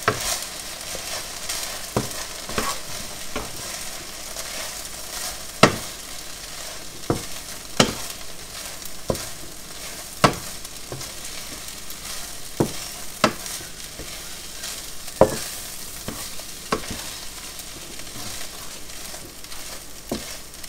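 A steady fry sizzles in a pan as eggs are stirred into the dish, crisp spoon or spatula knocks landing every second or two over the continuous hiss.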